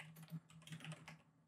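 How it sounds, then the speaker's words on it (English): A Logitech G Pro mechanical gaming keyboard being typed on, giving a quick run of light, crisp key clicks that is quiet and close, with no voices. "The wonderful sound of my Logitech G Pro mechanical gaming keyboard keeping time"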